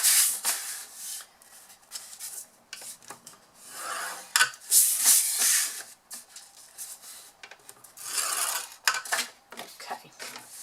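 Card stock for a large box is scored on all four sides with a shim, giving close, dry scraping and rubbing strokes in separate bursts with quiet gaps between them.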